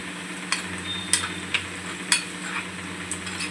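Onions frying for a tadka in a pan, a steady sizzle broken by several distinct scraping clicks of a spoon stirring at irregular intervals.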